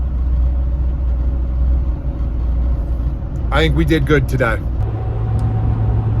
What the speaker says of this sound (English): We are in the truck, cruising.